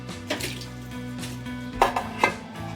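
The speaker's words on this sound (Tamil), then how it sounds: "சிக்கன் உடையாமல் கலந்துக்கலாம்" Chicken being mixed gently into biryani rice in a cooking pot: soft scraping and stirring with a few sharper metallic clinks of the utensil against the pot, close and steady, with no voices.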